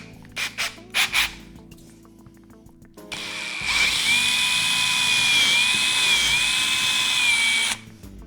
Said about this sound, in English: The last thing we do is to drill the center hole with the 10 mm 3/8 bit.